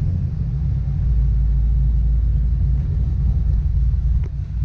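Low, steady engine rumble of a car driving after work on a noisy steering rack, heard from inside the cabin, continuous and fairly loud with no talk.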